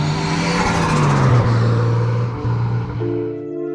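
A Nissan 240SX drift car drives along, its engine a loud, close, steady drone whose pitch dips and climbs as it shifts, with no voices.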